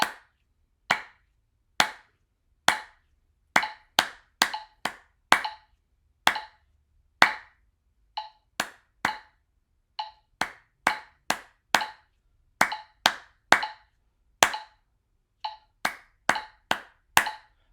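Close, crisp hand claps beat out a 4/4 rhythm exercise mixing quarters, eighths and a dotted quarter. Sharp single claps and quick pairs fall in a repeating pattern with clean silence between them and no talking.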